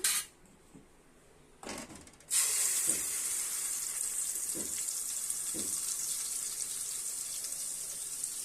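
Curry leaf paste hits hot oil with a sudden loud sizzle that settles into steady frying, broken by a few soft knocks of a spoon.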